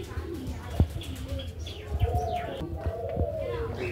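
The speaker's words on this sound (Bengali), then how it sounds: "দেখো কত সুন্দর সাদা পায়রা" White pigeons coo in soft, repeated throaty phrases at a bird park, with chirps and other bird calls scattered around and people talking nearby.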